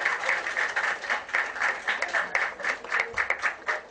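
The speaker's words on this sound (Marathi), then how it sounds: "सर्वांसाठी जोरदार टाळ्या" An audience at an honours ceremony claps loudly and steadily, a fairly close crowd applauding in a rhythmic, pulsing pattern for a few seconds.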